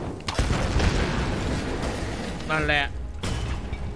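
An explosion blasts a path open in Tomb Raider, a heavy boom near the start under steady talking, with a later thump and crackling debris.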